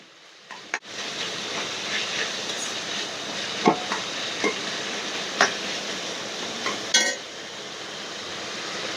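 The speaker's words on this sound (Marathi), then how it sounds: "तर कांदा तेलात चांगला परतून घ्यायचा आहे." Chopped onion sautés in hot oil in a home kitchen, giving a steady close sizzle with a few clinks and scrapes of stirring.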